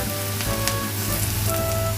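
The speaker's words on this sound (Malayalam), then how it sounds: "ഇഞ്ചിയും വെളുത്തുള്ളിയും ചതച്ചതിട്ട് കൊടുക്കാം" Onion with crushed ginger and garlic sautéing in a pan for a Kerala crab roast: a steady, close, dense sizzle and crackle of frying throughout, with faint stirring and no speech.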